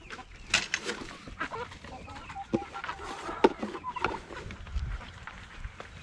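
Chickens and roosters cluck and squawk in short, scattered bursts around feeding time outdoors, fairly close and moderately loud, with a person calling to them in between.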